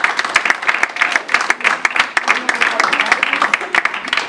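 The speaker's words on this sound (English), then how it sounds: "Ricardo Hussey, give him a round of applause" An audience claps in a burst of applause at a seminar event, dense and steady throughout, with a voice audible over the clapping.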